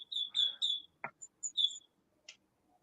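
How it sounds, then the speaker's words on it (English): A nocturnal widow's bird gives a few thin, high chirps and squeaky calls in quick bursts, interspersed with short clicks, fairly close and quiet with no talking. "there's some widow's bird, and it's a nocturnal bird"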